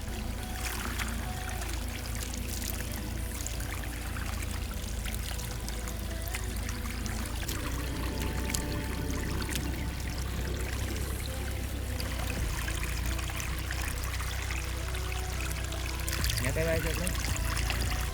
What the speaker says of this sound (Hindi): अब देखिए उसका पानी इसके अंदर आने लग गया, फिर इसका पानी इसमें और उसका पानी उसमें